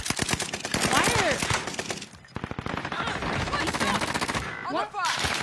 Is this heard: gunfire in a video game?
yes